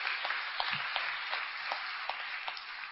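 An audience at a sobriety recovery talk claps in sustained applause, a dense, even patter of many hands that stays full throughout with no voice over it.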